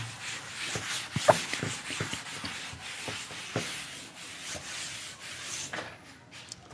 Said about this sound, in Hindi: हम इसको रब करेंगे तभी हमारे पास जगह बचेगी